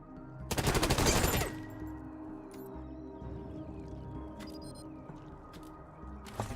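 Burst of rapid automatic gunfire in the video game Wasteland 3, a loud, close rattle of repeated shots lasting about a second, followed by quieter game ambience and a few scattered clicks.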